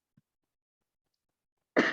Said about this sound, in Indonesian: Ibu lagi batuk-batuk.